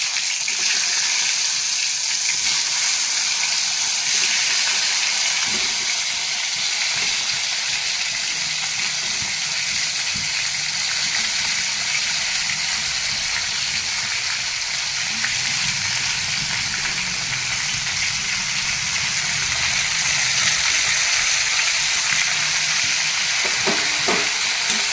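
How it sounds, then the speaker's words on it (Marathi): Chutney-stuffed brinjals fry in oil with turmeric, giving a loud, steady sizzle with a bubbling hiss throughout and occasional stirring scrapes. "आणि यामध्ये आता आपण जे वांग्यात चटणी भरलेली आहे ते वांगे यात टाकूया।"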